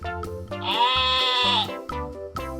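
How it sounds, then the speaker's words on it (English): A single sheep gives a long, loud, wavering bleat, clear and close, with shorter bleat sounds just before and after it. "Sheep."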